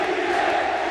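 Filipino esports fans in the arena at the Dota 2 Manila Major raising a dense, steady crowd roar, loud and sustained with no gaps.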